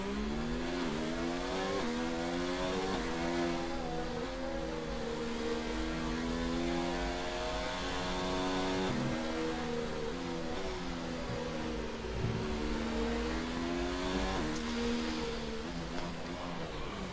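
F1 race cars lap the Monaco street circuit in an F1 video game, engines screaming at high revs with rising and falling pitch sweeps as gears change, a continuous close whine.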